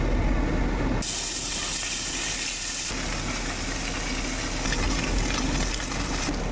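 Fish seasoned with salt and turmeric fries in oil in a kadai, giving a loud, continuous, close-up sizzling hiss that surges and eases a few times.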